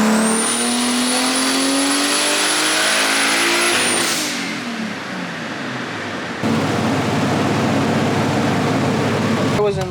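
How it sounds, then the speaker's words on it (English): A built, boosted BMW E36 with a cheap journal-bearing turbo revs hard on a dyno, climbing to a loud high-pitched wail, dropping off, then droning again, very close and loud. "This turbo sounds nuts."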